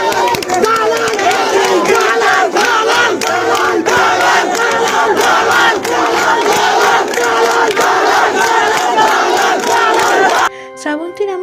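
A large political crowd shouts loud slogans together in rhythmic, forceful chants, dense and close, with voices overlapping throughout before a brief cut near the end.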